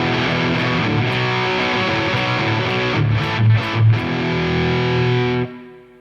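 An electric guitar played through a Victory Crunch preamp into a V30 speaker cabinet, with the 808 and delay switched off, gives a loud, heavily distorted sustained chord riff with a few choppy hits before it stops.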